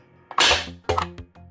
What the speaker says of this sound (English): these the darts are gonna be shooting. Chrono test, firing.